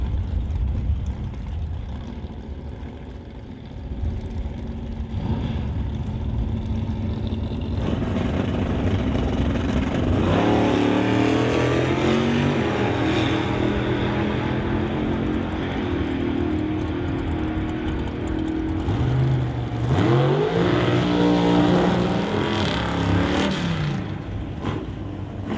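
At an NHRA Summit ET Series drag race, an Acadian and a Dodge roar down the strip side by side. Loud engines rev and accelerate hard through rising, sustained, wailing runs.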